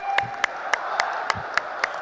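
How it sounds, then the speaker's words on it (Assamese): A crowd stands and applauds at a political welcome for Amit Shah, producing a steady wash of clapping with sharp individual claps punctuating it at fairly regular intervals, no speech over it. "সকলোৱে এবাৰ থিয় হৈ তেখেতৰ কাৰণে এটা হাত চাপৰি 2 মিনিট সময় এটা হাত চাপৰি বজাব সকলোৱে জোৰদাৰ"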